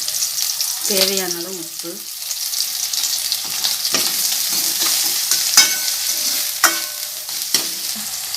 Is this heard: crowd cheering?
no